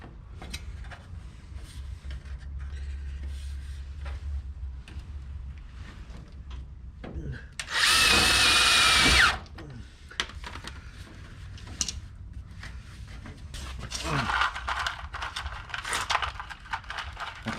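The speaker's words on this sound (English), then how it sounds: "Unfortunately, I left my impact at home, so we're just using a drill." An electric drill drives screws during car floor and rocker repair, with one loud whirring burst of about a second and a half in the middle, surrounded by scattered clicks, taps and handling noises.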